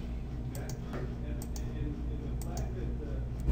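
Sparse, light mouse clicks while selecting files in the Navisworks selection tree, a handful of sharp ticks spaced irregularly over a low steady background hum, quiet and close.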